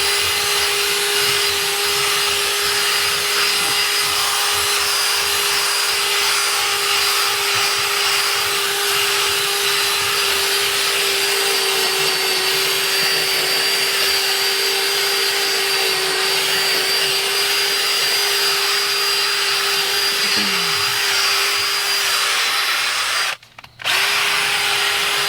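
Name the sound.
Mytee Lite 8070 heated carpet extractor cleaning upholstery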